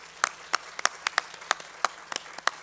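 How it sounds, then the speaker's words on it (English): Audience applause at a student presidential salute event, heard as sparse, distinct claps with uneven rhythm, fairly close and alone without talk. "Can we give them another round of applause"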